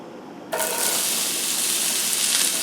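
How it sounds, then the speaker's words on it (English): Summer squash hits a hot pan for a Greek sauté, a sudden loud hiss that jumps in after a short quiet lead-in and then holds steady and broad, like rushing water, to the end. "Now we'll go ahead and add the squash."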